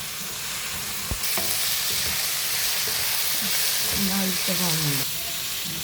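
Onion and grated coconut sauté in a pan for a duck curry, a steady close sizzle with stirring scrapes throughout, a few brief voice-like tones rising near the end.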